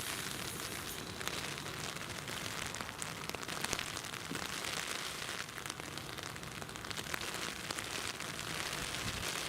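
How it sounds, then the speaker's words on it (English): Steady heavy rain pours at Newcastle International Airport, a dense continuous hiss of drops drumming on surfaces, loud and unbroken throughout with no talk. "you can hear the rain now, I imagine, on the live stream"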